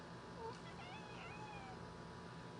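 A house cat meows indoors, giving a few short, faint, rising calls over low room hiss, with no talk during them.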